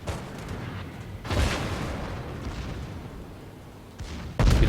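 Warship guns fire high-explosive shells in a naval combat game, with deep booming salvos that swell into a long rumbling roar and a fresh heavy blast at the end, loud and close.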